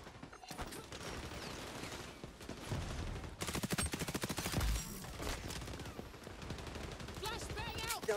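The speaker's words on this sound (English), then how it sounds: "this MP5 absolutely shreds" Rapid automatic bursts from an MP5 submachine gun in a Call of Duty match, loud sustained fire with repeated rattling volleys and brief pauses, a player talking over parts of it.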